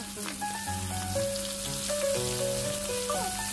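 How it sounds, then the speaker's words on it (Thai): Battered squid sizzles and crackles in hot oil in a pan with a steady hiss, while a melodic tune plays over it throughout. "พอน้ำมันร้อนแล้วเราก็ใส่หมึกลงไปทอดได้เลยครับ"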